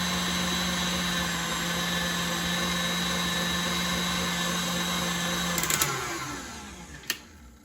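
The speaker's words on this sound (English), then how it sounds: "It's a lot of lumps from the powdered sugar, so I definitely want to give this a good whipping." A motorised mixer whips icing made with powdered sugar and lemon, a loud steady whine that winds down near the end, followed by a sharp knock.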